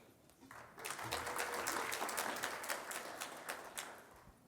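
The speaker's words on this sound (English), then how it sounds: "Give him a big round of applause." Audience applause at a panel event, swelling in after a quiet opening second into a steady, fairly distant wash of many hands that holds and then eases slightly toward the end, with no voices over it.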